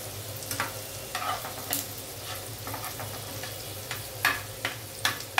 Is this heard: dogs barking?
no